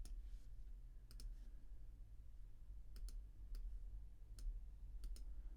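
Sparse, faint clicks from a computer mouse and keyboard during selecting, copying and pasting, spaced irregularly over a low steady hum with no talking.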